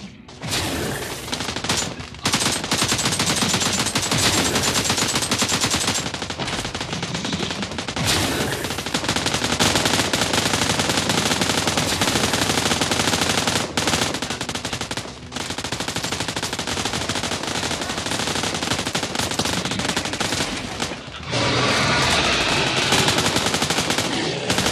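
Rapid automatic gunfire from a PUBG Mobile match, loud, dense bursts of machine-gun fire and overlapping shots filling the stretch with brief gaps between volleys.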